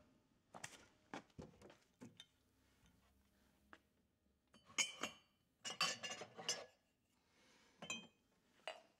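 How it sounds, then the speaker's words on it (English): A metal spoon stirs powder into two cups, giving sharp clinks and taps against the cup walls in irregular bursts, close and fairly loud, with quiet gaps between. "And I take 2 cups, one for me, one for my spousal unit, and merely mix the powder into the cup."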